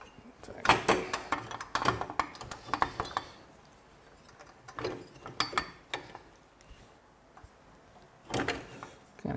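Metal clanks and ratcheting clicks come from an Evolution Softail motorcycle exhaust system as it is worked loose from its studs, in irregular close bursts with brief pauses between them.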